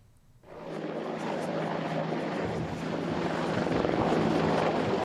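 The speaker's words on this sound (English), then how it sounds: "2 Apaches and 4 Black Hawk helicopters suddenly emerge" Two Apache and four Black Hawk military helicopters fly over Taoyuan International Airport during a military drill, their steady rotor and engine drone rising in after a quiet start and holding loud throughout.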